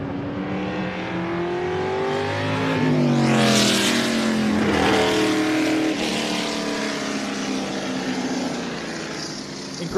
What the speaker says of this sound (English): Here's a look at that F5000 car of Alan Senior. And you can hear its Can-Am roots as it thunders away.